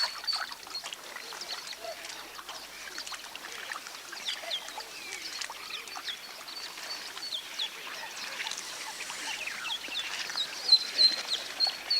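Young ducklings on garden pond water keep up a continuous high chorus of thin peeps and cheeps. The calls sound fairly close and overlap throughout, with no clear talk.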